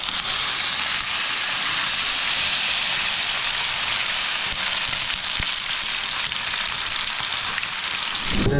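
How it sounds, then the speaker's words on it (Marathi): Tilapia fish frying in hot oil gives a steady, dense sizzle and crackle that holds loud and close through the whole stretch, with no talking over it. "तर पाहू शकाल कशा प्रकारे मासे रोस्ट होतात."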